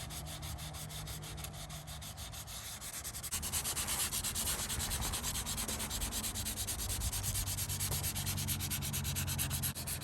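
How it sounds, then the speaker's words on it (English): Sandpaper scrubbing rust from a hand-forged axe blade, a steady close rasping rub that starts lighter and grows louder and denser after a few seconds, continuing without pause. "I'll just quickly take the sandpaper to it"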